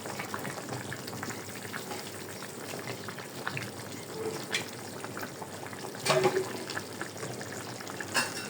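A pot of cauliflower curry simmering at a boil gives off a faint bubbling and hiss, broken by a few soft knocks and clinks of a utensil against the pot.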